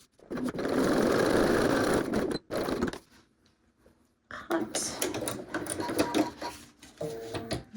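A sewing machine top stitches a wallet pocket in a raw-edge card wallet, running in a loud, steady burst for about two seconds, then stopping, with softer intermittent machine and handling noise following.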